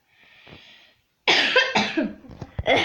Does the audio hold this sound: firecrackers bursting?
no